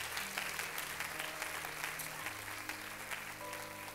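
A church congregation claps steadily throughout, a dense, sustained round of applause filling the room with no break, with faint organ or keyboard tones sustained underneath.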